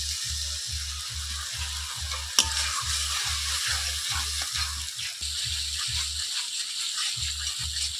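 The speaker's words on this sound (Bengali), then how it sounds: "এবার দেবো ধনে আর জিরে একসঙ্গে বাটা, অল্প জল দিয়ে মশলাটা ভালোভাবে কষিয়ে নেব" A ground coriander and cumin paste with a little water fries in a pan, a soft sizzle under a fast, even run of low stirring thumps that stops briefly near the end.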